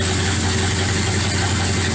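A Dodge Dakota pickup's engine after upgrades runs at a loud, choppy idle, a steady low rumble that holds evenly for two seconds, close by with no talking.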